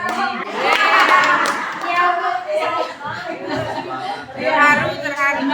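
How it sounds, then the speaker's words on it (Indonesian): Audience applause from parents and teachers at a school program event in Bekasi, a steady patter of hand claps running throughout with chatter and light laughter mixed in. "Tepuk tangan Bapak Ibu luar biasa ya."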